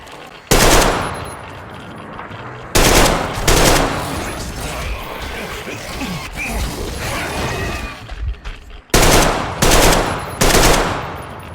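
Bursts of automatic gunfire from the video game Metro Exodus, several loud sustained volleys separated by quieter stretches of mechanical rattling and handling noise, with the firing breaking off near the end as the ammunition runs out.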